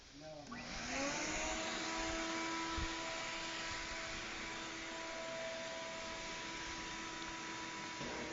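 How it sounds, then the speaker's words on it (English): A vacuum cleaner switches on with a rising whine and then runs steadily and evenly for the rest of the stretch, a moderately quiet, continuous motor drone with airy rushing and no talking over it. "This vacuum doesn't come across too loud"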